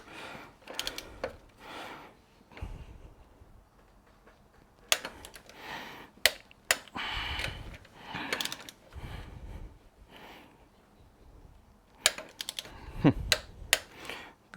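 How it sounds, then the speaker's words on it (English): Bolts on an Audi A2 1.4 being tightened during a timing belt and water pump job, with scattered sharp clicks and knocks in clustered bursts, fairly close and separated by quieter pauses. "Let's torque the buggers up now."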